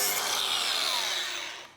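Power tool cutting into the metal body of an E30 M3 being built into a ute, a loud continuous high-pitched grinding whine that holds steady, then tapers off toward the end.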